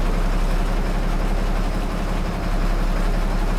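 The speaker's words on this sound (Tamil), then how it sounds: "Plastic tata engine sound." A Tata-engined KSRTC Minnal bus runs with a steady, loud low-pitched drone and heavy engine hum, a constant rumble close at hand throughout.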